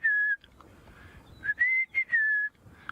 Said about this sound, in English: which is a rufous-naped lark